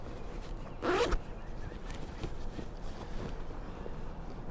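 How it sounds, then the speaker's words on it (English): Clothing zipper pulled shut on a hunting vest pocket, one quick close rasping zip lasting a fraction of a second, followed by faint rustling and outdoor wind noise. "Zip it up"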